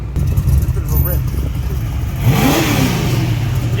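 Car at a large outdoor car cruise revving its engine, a rising and falling roar mid-distance under crowd chatter and voices, swelling louder toward the end.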